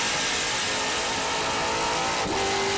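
Trans Am race cars at Portland roaring loudly and steadily past at close range, with dense engine noise filling the whole stretch and a brief pitch change near the end as one car shifts or lifts.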